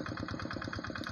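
Kubota Quick 6.5 HP hand tractor engine running steadily, a close, loud, even rhythmic chugging throughout the short stretch with no voices.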